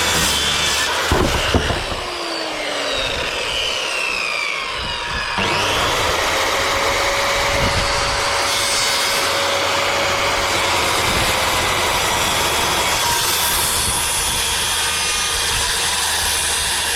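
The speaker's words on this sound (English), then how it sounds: "I think that blade's getting a bit iffy on this saw." A saw with a worn blade cuts through green pressure-treated timber in a loud, continuous, rough buzzing drone that carries on for the whole stretch after a brief uneven start, with no talking.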